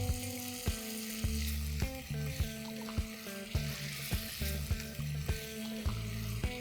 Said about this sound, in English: At this stage, we'll add the shallow fry potato which we did earlier.